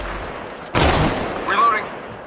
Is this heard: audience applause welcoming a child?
no